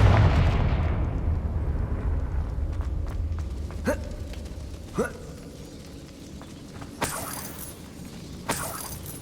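A Confringo blasting spell explodes in Hogwarts Legacy with a loud, booming blast that rumbles away over a few seconds, followed by scattered sharp impacts and footsteps.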